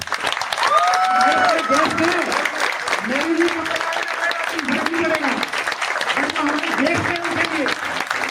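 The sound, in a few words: audience applause for Satish ji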